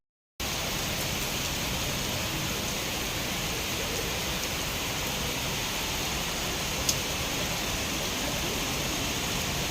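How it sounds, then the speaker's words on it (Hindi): Heavy rain pours steadily, a dense continuous hiss of drops with one brief sharp tap partway through. "बारिश जो है ना काफ़ी तेज़ हो रही है"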